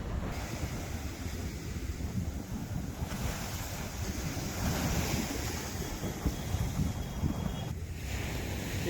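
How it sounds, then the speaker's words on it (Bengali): Sea waves roll in steadily on an empty beach at Digha under strong wind buffeting the microphone, a continuous loud roar with surges of surf and no voices. "একদম ফাঁকা সমুদ্রের ধার"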